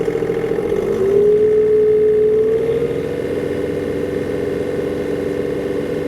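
A 2022 John Deere 3039R compact tractor runs steadily at about 1,700 RPM, a close, loud, even engine hum whose pitch settles slightly lower partway through and then holds without talking.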